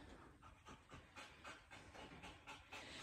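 A dog pants rapidly and rhythmically close by, quick breathy gasps repeating steadily for a few seconds with no other sounds.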